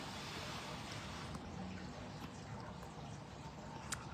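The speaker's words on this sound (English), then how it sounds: "and our little waterfall. Isn't it cute?" A small decorative indoor waterfall in a store or warehouse trickling softly and steadily, a faint continuous wash of running water with a few tiny drips.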